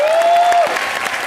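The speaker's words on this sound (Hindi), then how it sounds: "चलिए जोरदार तालियां हो जाए।" Studio audience applause on a comedy show, a dense burst of clapping with a tonal music sting or sound effect gliding over it at the start.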